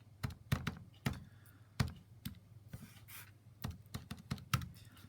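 Fingers tap out numbers on a calculator keypad, a quiet, uneven series of sharp clicks with short pauses between bursts, close to the microphone.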